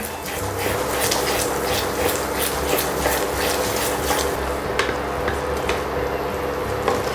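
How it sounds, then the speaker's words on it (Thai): A thick salak fruit sauce simmering and being stirred in a pan, with a continuous bubbling sizzle and repeated soft scraping strokes of the spoon, close and steady throughout. "คนไปเรื่อยๆค่ะ พอเราเคี่ยวมาสักพักนะคะ"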